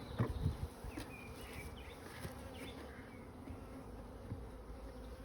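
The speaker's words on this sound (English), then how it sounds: "Unfortunately you can't help catching the odd bee" Honey bees buzz steadily around an open hive during a spring inspection, a continuous low drone with a few louder passes close by near the start, no talking.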